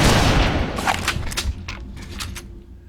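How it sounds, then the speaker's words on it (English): Gunfire from security bots in the Red Faction game: a dense, loud opening barrage fading into a rattle of scattered shots that continue fairly close for a few seconds, no talk. "I've got these security bots shooting at me."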